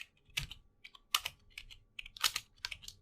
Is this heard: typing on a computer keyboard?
yes